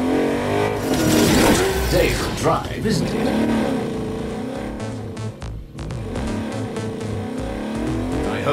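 A car engine revs and roars in the Agents of Mayhem video game, loud and close, with tire noise, surging and falling under game music, while voices talk over it.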